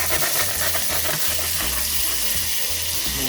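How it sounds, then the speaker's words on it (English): Minced garlic sautés in melted butter in a saucepan, giving a steady, close, dense sizzle that runs unbroken for a few seconds, with no talking. "Kind of saute that a little bit."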